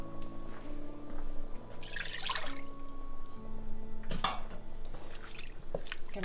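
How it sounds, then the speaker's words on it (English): Cans of water are poured into a pot of tortellini soup with chicken, giving splashy gushes and dripping over a steady tonal kitchen hum, close and moderately loud. "The recipe calls now for 2 soup cans of water. So just get those and add those in,"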